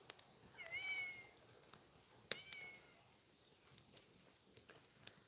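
A cat meows faintly a couple of times against quiet background hiss, with a few soft clicks and rustles nearby.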